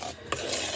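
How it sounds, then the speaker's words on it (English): A spoon scrapes and rasps briefly through cornmeal cornbread batter in a bowl, close and fairly quiet, with one sharper scrape partway through and no voices. "we're going to stir that all in together"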